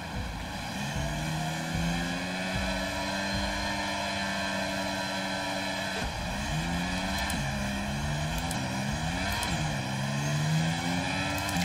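A Formula 1 race car engine in the F1 2023 video game screams loudly and steadily, climbing in pitch through several rapid upshifts with a clear gear change near the middle, with no voices.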